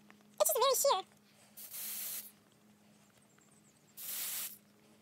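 Two short hissing bursts of spray-on foundation from an aerosol can, each about half a second, in a quiet room after a brief vocal sound.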